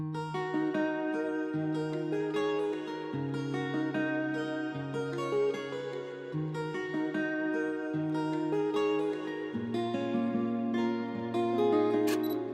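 A looping guitar beat with a steady low guitar part and a second guitar's brighter melodic line playing on top, continuous and clear, no voices.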